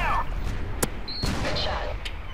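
Sharp gunshots crack out in Modern Warfare 3 co-op combat, a few loud separate reports amid a busy battle din with voices talking over it.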